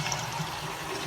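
Water pours steadily from a pipe into a tank, where another outflow pipe sits above the water level and no air is pumped in. The flow makes a continuous, fairly loud rushing splash with no voices.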